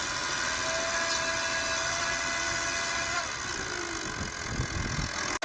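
A VW 2.5 TDI turbo diesel engine runs close by with a steady, dense mechanical drone and whine, holding fairly even before dipping slightly and cutting off abruptly at the end.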